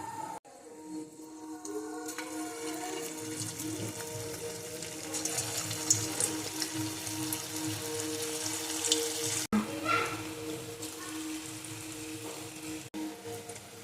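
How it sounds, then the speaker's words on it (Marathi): Cabbage manchurian balls fry in very hot oil on a high flame, giving a steady, dense crackling sizzle that runs the whole time with small pops and brief dips. "छान आपल्याला कडकडीत तेलामध्ये तळून घ्यायचे आहे"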